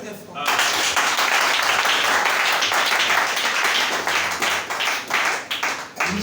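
A church congregation breaks into loud, sustained clapping and applause, dense and steady, with voices mixed in and the claps thinning out toward the end.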